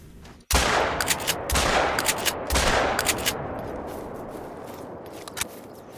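Shotgun blasts ring out in theHunter: Call of the Wild, one sudden loud shot followed by several more sharp reports in quick succession, each trailing a long outdoor echo that fades away.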